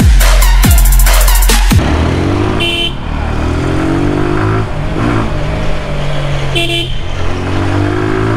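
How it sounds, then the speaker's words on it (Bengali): A motorcycle with a modified, partly open silencer revs loudly in a few sharp throttle bursts near the microphone. A steady, rumbling idle follows, broken by a couple of short horn toots. "যখনই আমি থ্রটল দিতেছি সাউন্ডটা একটু লাউড হইতেছে আগের তুলনায়"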